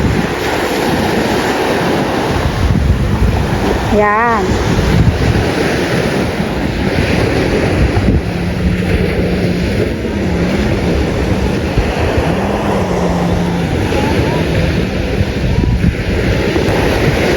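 Sea waves surging and rolling continuously at a beach, loud and close with heavy wind buffeting the microphone, a brief voice heard once.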